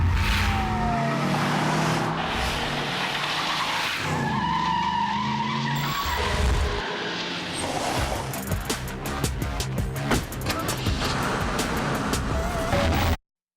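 Toyota Corolla hatchback built for Formula Drift sliding hard, with loud sustained tire squeal and revving engine surges, ending in a dense burst of skidding noise.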